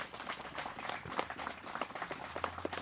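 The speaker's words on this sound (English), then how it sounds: "I think this deserves a round of applause." Wedding guests clap during the ceremony after the bride and groom are announced, producing a quiet, loose patter of hands that sounds somewhat distant and soft.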